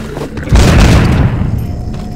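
A grenade blows up in the zombie shooter game The Walking Zombie 2 with one loud, deep boom that strikes suddenly and then rumbles on and slowly fades, with no voices over it.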